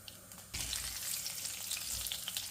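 Mustard seeds, cumin and curry leaves hit hot oil and burst into a loud, steady sizzle that jumps in abruptly after a quieter start and keeps crackling without any talk.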